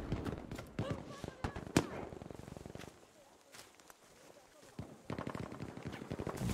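STG 44 assault rifle gunfire in the video game Battlefield V: rapid bursts of sharp shots that pause into a quieter stretch, then resume, with other battlefield noise and some talk around them.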